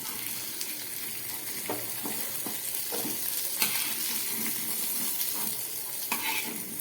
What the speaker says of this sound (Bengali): এদিকে আমি আলু বেগুনটা ভাজা বসিয়েছিলাম, আমি পুরো আলু বেগুন ভাজা রেডি হয়ে গেছে।